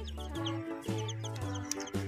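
Cartoonish chicken clucks repeat in a steady, looping rhythm over game music from a mobile animal-collecting game full of colorful rainbow chickens, close and moderately loud.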